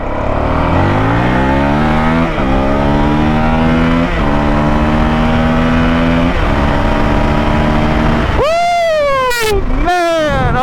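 A 2023 Honda CRF450X dirt bike fitted with a Vortex ECU makes an acceleration run, its engine climbing through several quick gear shifts in rising, loud revs before a final sharp blip and wind noise close by.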